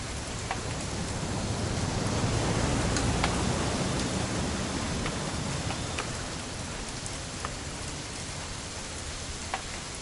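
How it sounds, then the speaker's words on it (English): Steady, dense rain pours down evenly throughout, with occasional sharper drops standing out against the continuous wash; no voices. "It's gonna rain the whole weekend, isn't it?"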